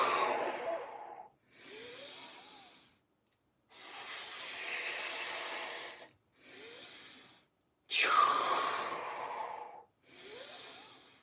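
Hissing exhales performed as the qigong lung healing sound: three long, breathy hisses alternate with softer nasal inhalations in a slow, steady breathing rhythm, close and moderately loud with no talk.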